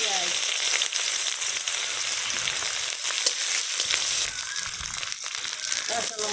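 Chopped onions fry in a pan for potato curry, a continuous close sizzle with scraping stirring noises, under intermittent talk.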